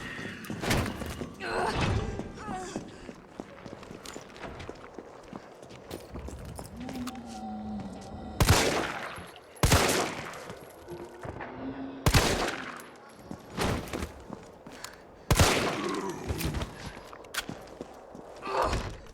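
Gunfire in the video game Resident Evil 3 Remake, downtown: several sharp, separate shots ring out every few seconds over a murmuring game background, fairly close and moderately loud.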